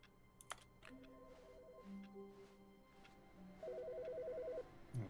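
Telephone ringing in the video game The Stanley Parable, two bursts of a fast, warbling electronic ring separated by a short pause and mixed with faint clicks, fairly quiet overall.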